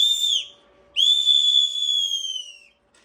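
A whistle 3D-printed in Bamboo filament gives two shrill, piercing blasts: a short one, then after a brief gap a longer steady tone that slowly falls in pitch, loud and close with no voices.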